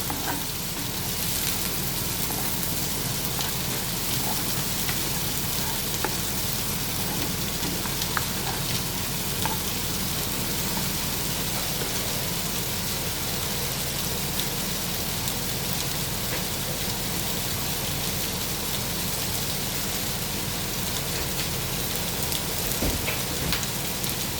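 Garlic frying in a pan until brown, a continuous, even hiss and crackle of hot oil sustained close up throughout with no pauses or talk.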